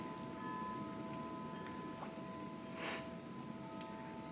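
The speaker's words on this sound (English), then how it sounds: "I'm sorry if y'all hear my chimes, my wind chimes." Outdoor wind chimes ring with sustained metallic tones and a few sparse, bright strikes, faint and distant against a low windy rumble.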